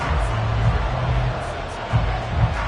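Home crowd at a football playoff game, a broad steady roar of cheering with swells and faint voices underneath, loud and continuous for a few seconds.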